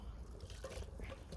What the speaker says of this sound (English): So in goes full tin of sweet corn,